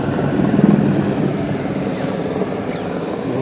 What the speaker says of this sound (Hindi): ये हेलीकॉप्टर भी जाता हुआ।